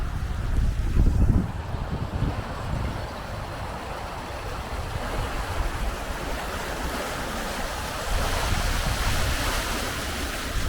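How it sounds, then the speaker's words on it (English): Water rushes steadily through the Watford staircase flight of canal locks as they fill, a broad continuous roar with gusty wind buffeting the microphone near the start. "Water is being run through to fill the locks."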